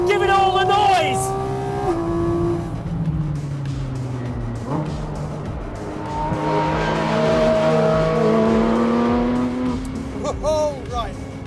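A Porsche 911 GT3 RS and a Cayman GT4 RS race on a track, engines screaming and shifting pitch through gear changes and braking, with tyre noise and someone talking over the loud, close engine roar.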